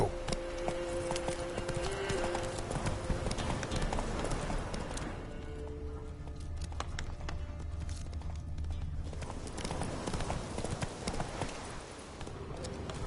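A horse gallops in a PS4 video game with a fast, steady clip-clop of hooves over continuous game sound and music, loud and near throughout.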